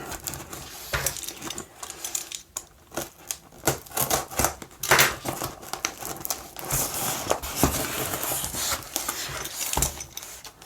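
A sellotaped parcel holding a pack of Maxell Rainbow MiniDiscs is unwrapped close up, with continuous crinkling, tearing tape and sharp rustling snaps at an uneven rhythm and no talking.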